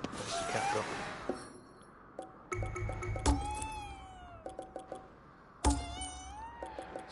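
Cat in GhostWire: Tokyo meowing several times, short rising and falling cries spaced across the stretch, with soft thuds and light clinks between.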